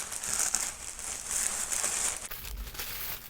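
Crinkling of a white plastic shipping envelope handled at close range, with a steady, continuous rustle and bright crackle that eases off near the end.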